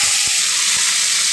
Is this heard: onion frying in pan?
yes